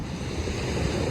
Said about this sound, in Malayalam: നല്ല അടിപൊളി വൃത്തിയുള്ള ബീച്ച് അല്ലേ